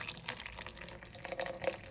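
Water for sourdough dough pours into a container on a zeroed kitchen weighing scale, a faint, brief splashing trickle with a few small drips.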